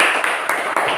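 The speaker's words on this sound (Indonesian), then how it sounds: "beri tepuk tangan untuk kelompok 1" Classmates clap for a group after its presentation in a classroom, a brief burst of dense, close applause.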